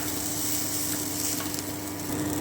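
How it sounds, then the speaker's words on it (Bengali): Chopped onion, green chilli and coriander sizzle steadily in hot oil in a pan while being stirred, a dense, continuous frying hiss close by without talk. "আমি আর একটুখানি নেড়ে নিচ্ছি।"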